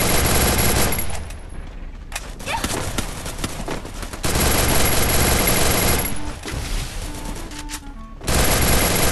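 Gunfire in the mobile battle royale game Garena Free Fire, loud dense rapid automatic bursts in several long volleys with short lulls between, and a player's voice under the shooting.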